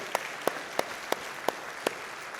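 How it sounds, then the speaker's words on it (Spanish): A church congregation claps sparsely in a few slow, distinct hand claps spaced about a third of a second apart, soft and somewhat distant in a reverberant room. "Dale un fuerte aplauso a Él."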